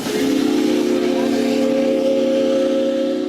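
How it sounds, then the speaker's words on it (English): A one-of-a-kind 1909 Stanley steamer steam car running on a hill climb gives off a loud, steady steam whistle with a hissing rush, sustained and close throughout. "this one-of-a-kind 1909 Stanley steamer proved she still had it in her"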